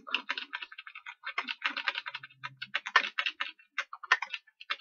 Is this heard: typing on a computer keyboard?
yes